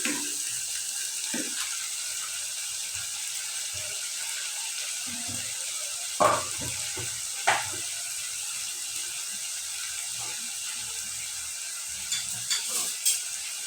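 Whole spices, bay leaf, cinnamon, two cardamoms and cloves, sautéing in oil for egg korma masala, a constant loud sizzle with occasional scraping stirs and light clicks of the spoon.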